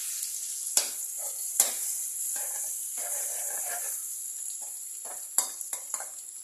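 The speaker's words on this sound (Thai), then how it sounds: "แล้วก็ใส่พริกกับกระเทียมที่เราโขลกลงไปได้เลย" Pounded chilies and garlic hit a hot frying pan for pork basil stir-fry, a steady close hiss of frying with a few sharp clinks of a utensil against the pan and soft stirring scrapes.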